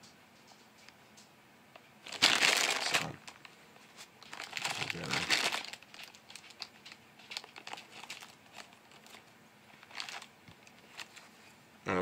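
Scissors cut open a plastic bag of Swedish Fish Mini Crush Fruit Mix soft, chewy candy, making loud crinkling and rustling bursts that come and go, with a brief spoken word nearby.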